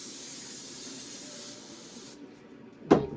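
Cleaner sprays onto a Poulan chainsaw in a steady hiss lasting about two seconds, then a pause and one short, sharp spritz.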